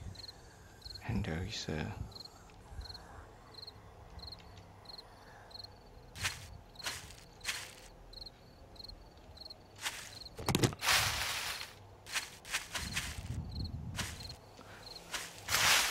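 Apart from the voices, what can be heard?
evening crickets chirping in video game 7 Days to Die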